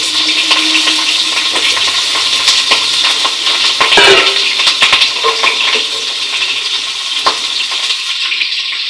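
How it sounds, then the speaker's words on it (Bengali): Potato pieces dropped into hot oil in a home kitchen, giving a steady close-up sizzle and bubbling hiss with a brief louder burst of spattering partway through. "আলুটা ছেড়ে নিই, আওয়াজ পাচ্ছেন নিশ্চয়ই"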